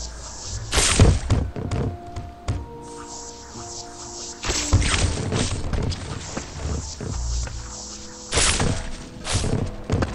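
Heavy thuds, crashes and shattering bursts sound as a web grenade clears large debris in a Spider-Man VR game, with loud, repeated impacts layered over synthetic game tones and rumble.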